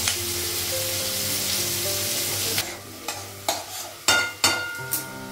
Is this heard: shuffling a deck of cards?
no